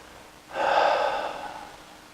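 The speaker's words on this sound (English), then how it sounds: "Take another breath." A single deep breath taken during a mindfulness relaxation exercise, a soft close airy inhale of about a second that slowly fades, heard alone without talking.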